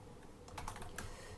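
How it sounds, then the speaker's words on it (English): Soft, quick keystrokes on a computer keyboard, a short burst of close taps over a faint background hiss, no voices. "I'll go ahead and type that out."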